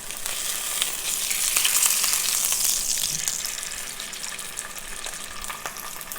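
Sous vide lamb searing in a hot pan gives a continuous bright sizzle that swells in the middle and then eases off slightly, close and alone with no talk.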